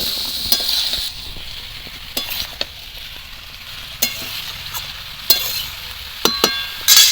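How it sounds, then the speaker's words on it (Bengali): Vegetables, pumpkin stalks among them, fry with onions and salt in mustard oil, giving a low, steady sizzle. A spatula scrapes and stirs through it in intermittent, close strokes. "সমস্ত সবজিগুলো সর্ষের তেল আর পেঁয়াজের সঙ্গে ভালো করে এরকম মিশিয়ে নেব"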